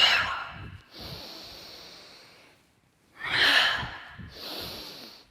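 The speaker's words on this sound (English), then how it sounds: "breathe out" Slow, deep breaths during a gentle yin yoga session, two long airy exhales with softer inhales between them, close and alone with no talking.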